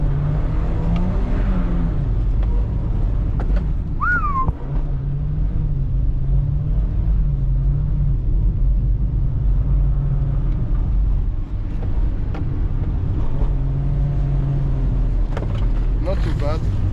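A weak car on an open-diff setup drifts around a roundabout, its engine droning and surging in loud, sustained revs with brief pitch swoops, with a voice talking over it near the start.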